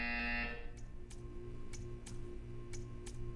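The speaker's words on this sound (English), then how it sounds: "You will hear a buzzer. When you hear the buzzer, stare at the art." A harsh, steady electronic buzzer sounds in the video game Portal 2 for about half a second. It cuts off into a quiet, regular ticking that repeats roughly twice a second.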